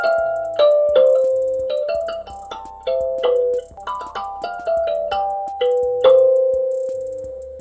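A bright, plucked electric kalimba melody rings out note by note, chiming like a doorbell jingle, each tone decaying slowly over a low sustained hum.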